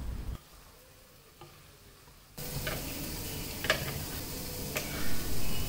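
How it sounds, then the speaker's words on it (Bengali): Salmon fish pieces frying in a pan: after a quiet start, a loud steady sizzle sets in and continues with scattered crackles and pops, close and unbroken to the end. "2 পিস মাছ এখন ভাজি করব"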